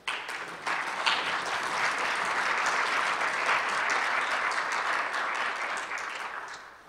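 Sustained applause from an audience at a STEM event, many hands clapping together in a steady wash that swells after a sharp start and fades slightly toward the end, with no speech over it.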